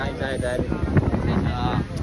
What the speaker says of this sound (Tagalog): ang lakas ng hangin pa rin